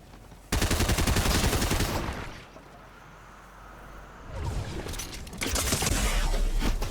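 An MK-Seven rifle fires in Fortnite in two long strings of rapid, sharp shots, loud and close, separated by a short quieter gap, with no speech.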